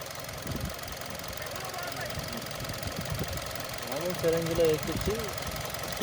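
A Hyundai Verna car engine idles after carbon-cleaning treatment, a steady low running hum with a slight knocking texture, while someone talks over it nearby.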